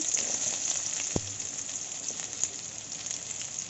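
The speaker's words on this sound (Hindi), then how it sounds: "एटा तेल दे कर प्याज दे देले" Onions frying in hot oil in a pan, a steady close crackling sizzle with scattered sharp pops and one brief clunk, no voices.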